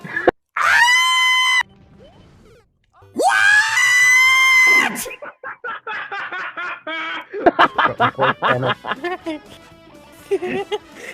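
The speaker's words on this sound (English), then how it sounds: "all of his screams would remind me of Rose Goku Black's screams" A cartoon dog character from Road Rovers lets out two long, shrill screams, followed by a rapid stream of squeaky, sputtering laughter-like cries.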